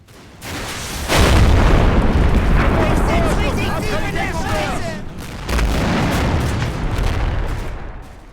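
Panzerfaust blast knocking out a T-70 light tank in the Combat Mission: Red Thunder war game, a heavy boom about a second in followed by rumbling battle noise and a second loud burst near the end.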